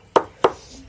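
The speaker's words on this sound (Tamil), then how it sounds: "அதை அந்த அரிசி பவுடராக வர்றது மாதிரி இப்படி இடிச்சுக்கணும்." Two sharp, close thuds about a third of a second apart as rice is pounded into powder, followed by quiet.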